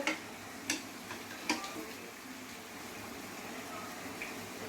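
Crispy fried potato chops clatter in a few sharp, close knocks during the first second and a half, then only a faint background hiss remains.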